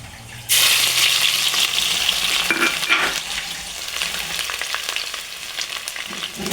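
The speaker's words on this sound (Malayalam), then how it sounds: "കടുക് പൊട്ടി, ഇഞ്ചി വെളുത്തുള്ളി ചതച്ചതാ," Mustard seeds with crushed ginger and garlic fry in hot oil for a liver roast, a sudden loud sizzle bursting in and then settling into a steady crackle with scraping stir strokes, no voices.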